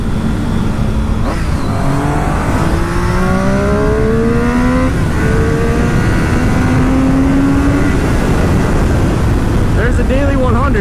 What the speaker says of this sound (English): let's go head out and do some pulls on the Triumph Daytona.